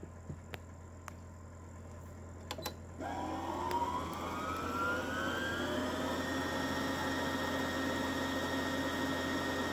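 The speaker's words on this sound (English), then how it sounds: "you should see it wind smoothly with no issues" A Brother PE800 embroidery machine winds its bobbin, a steady motor whir that starts abruptly after a few soft clicks and rises slightly in pitch before holding an even, close hum to the end.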